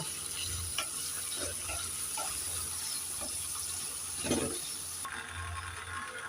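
Water is poured into a pan of spices frying in oil for a sarputi fish curry with dhundul, a steady sizzle and bubbling with a brief louder gush partway through, no voices.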